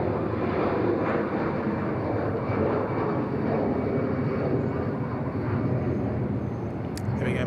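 A MyAir airliner gets underway on a taxiway at Bangkok Suvarnabhumi Airport, giving a steady, moderately distant engine rumble and hum that holds at an even level, with no talking.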